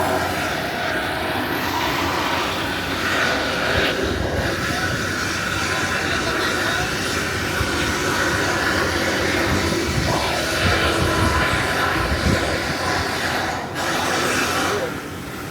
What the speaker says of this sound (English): You can hear all that grinding.